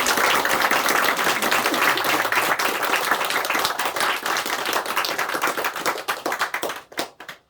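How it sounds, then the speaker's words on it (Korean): A church congregation at Easter Sunday worship claps together in praise, a loud dense wash of many hands that holds steady, then thins into scattered final claps and fades out. "주님의 그 부활을 기뻐하며 또 감사하며 영광 돌리는 우리 박수 한번 드리겠습니다"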